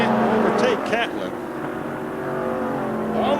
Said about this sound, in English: here comes Umphris, but he can't overtake Catlin